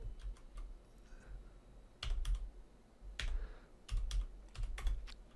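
Typing a terminal command on a computer keyboard, bursts of close, crisp key clacks in short clusters with brief pauses, no voice heard.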